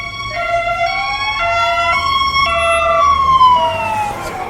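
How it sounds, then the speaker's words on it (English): Wailing sirens from police cars and an ambulance rise and fall loudly over steady Copenhagen traffic rumble, several overlapping tones sweeping up and down close by. "Got a police bike, another police vehicle, an ambulance."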